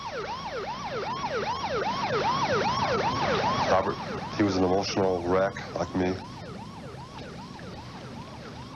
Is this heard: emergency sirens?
yes